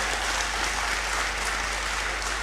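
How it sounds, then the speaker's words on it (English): A Great Hall audience at a university degree congregation ceremony gives a steady, even round of applause, continuous and moderately loud throughout the brief stretch. "let's give her another big round of applause"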